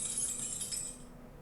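Glass breaking sound effect from an After Effects asset pack, a bright crystalline shattering and tinkling that rings out at once and then thins into a fading scatter of small fragments, with no voices.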